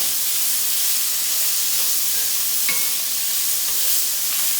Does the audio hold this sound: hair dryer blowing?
no